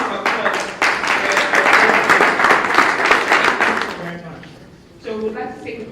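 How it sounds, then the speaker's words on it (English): An audience applauds at a church health series gathering, steady dense clapping for about four seconds before it fades out and a voice begins speaking. "Please, a round of applause."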